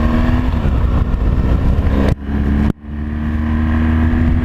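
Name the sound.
BMW GS motorcycle pulling away from a green light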